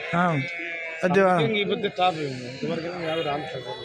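At a weekly livestock market in Anantapur, sheep bleat loudly and repeatedly nearby, their wavering cries overlapping with people talking in a busy crowd.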